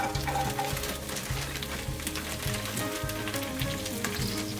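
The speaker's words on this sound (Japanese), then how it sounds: "フライパンと油がよく温まったので小松菜を入れて炒めます。" Komatsuna greens stir-fried in hot oil in a frying pan, giving a dense, continuous sizzle and crackle with rhythmic scraping and tossing strokes, close and steady throughout.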